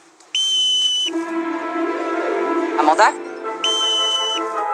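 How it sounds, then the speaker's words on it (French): Two loud, steady referee-style whistle blasts, each about a second long, separated by a stretch of a woman calling out to children in a gym class. "À mon coup de sifflet"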